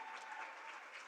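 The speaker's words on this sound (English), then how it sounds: "A round of applause." Applause from a congress crowd, steady clapping throughout, fairly faint and distant.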